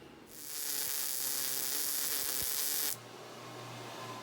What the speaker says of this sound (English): So I'm just going to center it by eye the best I can and weld a couple tacks around there.